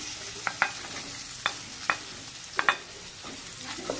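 Ridge gourd is stirred in a pan with red chili powder for a village-style Marathi dodkyachi bhaji. Several sharp scraping clacks sound over a steady frying hiss, close by, with no voices.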